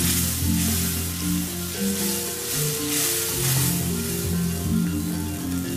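Ginger and cumin paste sizzles steadily in a hot pan while being stirred for a pigeon curry, a dense continuous frying hiss with a low tonal hum running underneath.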